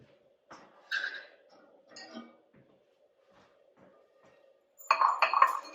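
Hot cooked grains are tipped out of a cast iron pan into a bowl: a few light clinks of metal on dish, then a brief, close rattling pour near the end.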